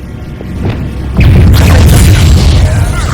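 The Confringo fire spell in Hogwarts Legacy bursts into a sudden loud, booming blast after a moment of quieter ambience. The explosion's rumbling, crackling tail sustains for a few seconds.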